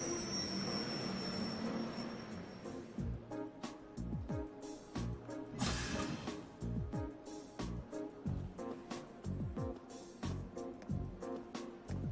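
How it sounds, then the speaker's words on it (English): A train in the video game Trails of Cold Steel pulls into a station platform, with rumbling wheels, repeated rhythmic clacks over rail joints and a brief squeal, loud and close throughout. "Transcontinental Railway service bound for Crossbow State, now arriving on platform 2."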